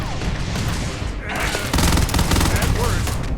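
Heavy gunfire from Starfield, with dense overlapping shots that grow louder and more intense in the second half, mixed with a voice speaking over the combat.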